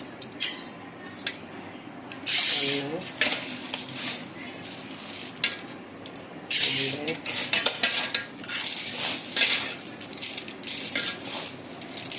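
Ration rice shaken in a sieve gives a gritty, rustling scrape in uneven bursts, with a few sharper metallic knocks against a steady low background.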